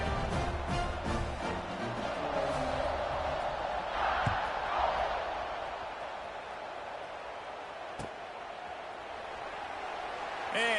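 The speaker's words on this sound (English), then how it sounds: "this crowd is buzzing after that last score" A football stadium crowd buzzes after a score, a steady broad roar with swells of cheering, heard beneath a commentator talking throughout.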